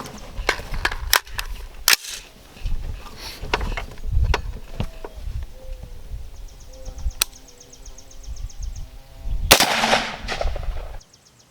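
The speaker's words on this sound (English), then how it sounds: "this is the hit with Fiocchi 55 grain PSP, just a soft point round" A rifle fires a Fiocchi 55 grain soft point round at a steel armor plate outdoors. Sharp, scattered cracks and knocks come up close, followed by a loud, heavy bang near the end, with faint birdsong behind.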